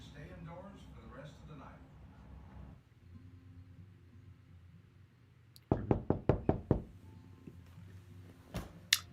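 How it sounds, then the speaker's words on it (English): A downloaded knocking sound effect raps several sharp, close knocks in a quick series of about six, then one or two more after a pause, following a stretch of talking. "That knocking sound was just a free one I found online"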